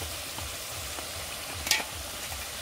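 Ground spices including coriander powder being stirred and fried in a pan for chicken curry, a steady low sizzle with soft stirring scrapes and one brief louder clatter near the end.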